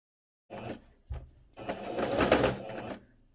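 A sewing machine with a presser foot stitches a fabric tablecloth in short close bursts of whirring, separated by brief pauses, with no talk.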